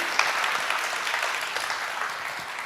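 Audience at the GovTech Baltic Leaders 2022 conference applauds a presenter with a dense, even wash of clapping that holds steady for its whole length and tapers slightly at the end.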